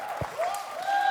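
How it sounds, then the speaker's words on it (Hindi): Applause from a comedy show studio audience, a short burst of crowd clapping that sounds moderately distant and steady, with voices faintly mixed in beneath it. "एक बार रितेश देशमुख के लिए जोरदार तालियां"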